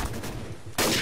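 Gunfire in a Garry's Mod Trouble in Terrorist Town round, a brief rapid burst of shots with a louder crack near the end of the short clip, close and sharp.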